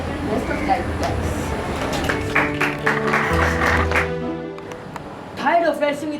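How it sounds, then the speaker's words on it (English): Audience applause opening a school debate competition, a steady wash of clapping through most of the stretch, mixed with music and a voice talking over it. "Please give a big round of applause"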